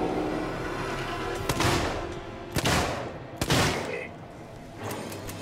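Gunfire in the survival horror video game Alien Isolation, with three or four sharp loud shots spaced a second or so apart over a droning game background.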